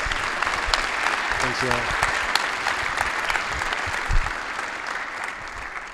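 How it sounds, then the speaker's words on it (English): Audience applause for a speaker at a Crown Forum gathering, steady broadband clapping filling the hall for the full stretch while a voice briefly speaks over it. "A round of applause for Mr."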